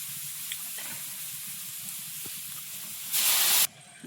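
Water poured over fried garden taro in a pan hits with a sudden, loud hissing sizzle that lasts about half a second, after a stretch of quiet low frying hiss.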